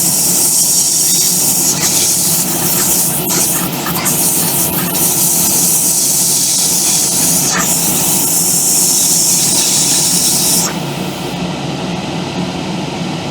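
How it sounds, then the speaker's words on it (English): An airbrush sprays paint onto the wheels of a model locomotive, a steady close hiss of air and paint that runs for about ten seconds before cutting off. "before I pull the trigger on the airbrush back to apply the paint"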